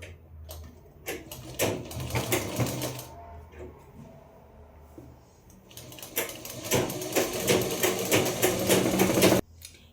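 A sewing machine stitches a kaftan seam in rapid clattering runs, starting and stopping with a quiet pause between two bursts of close mechanical rattling.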